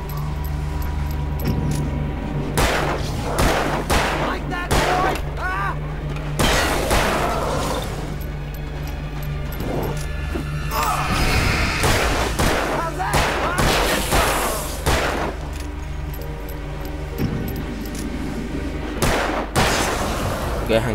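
Repeated gunshots in the video game Alan Wake crack in scattered bursts over a steady background hum, with occasional voices talking between the shots.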